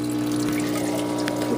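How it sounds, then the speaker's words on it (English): Water trickles and drips back into a reef aquarium tank while a small pump circulates it, a steady close wash of flow over a low continuous hum with no talk. "when the water level goes down, it'll just drip back into the tank"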